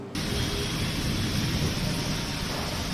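Heavy pre-monsoon rain pours down in Mumbai during a thunderstorm, a dense, loud, steady roar with a deep rumbling low end, no voices.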